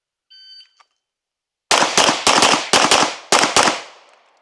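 Gunshots during a shooting training run, five loud, sharp reports fired in quick succession, each ringing out briefly, preceded by a short electronic beep from a timer.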